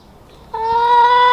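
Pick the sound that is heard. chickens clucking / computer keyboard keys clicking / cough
chickens clucking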